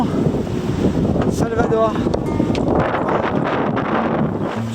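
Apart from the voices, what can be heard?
wind while sailing a sailboat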